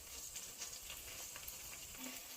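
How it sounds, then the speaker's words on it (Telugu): Ingredients for Telangana-style desi chicken curry frying in a pan, a soft continuous sizzle and crackle with faint stirring, quiet and steady without any talking. "ఇవైతే కొద్దిగా వేయించుకోవాలి, వేగనివ్వాలి."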